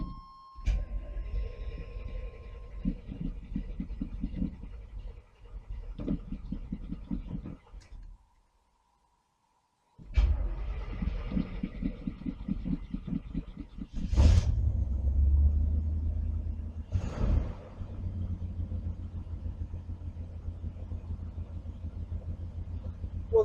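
A 1981 GMC C10 square-body truck engine fired up in a garage with its new exhaust, idling with a deep, steady rumble, cutting off briefly, then restarting and revving in a few loud surges close by.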